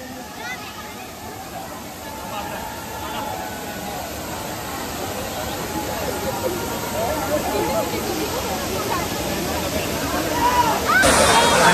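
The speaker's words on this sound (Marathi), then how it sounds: "समोर धबधबा आहे, अतिशय सुंदर असा वॉटरफॉल" Dhangar waterfall in Badlapur during rain, a steady broad roar of falling, splashing water that grows slightly louder toward the end, with voices audible over it.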